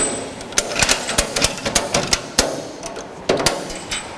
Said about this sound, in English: Fasten the ratchet.